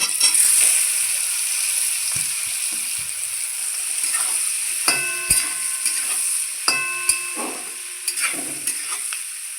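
Onions sizzle in a wok with a steady hiss, punctuated by a few sharp metallic clangs of a spatula stirring.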